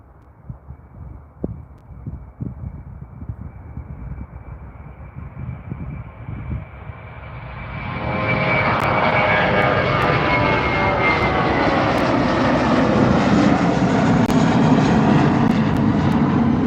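A jet in new livery takes off from Calgary Airport runway 35R: quieter ambient rumble at first, then a loud, broad engine roar swells at about eight seconds and holds steady, close and powerful, with no talk over it.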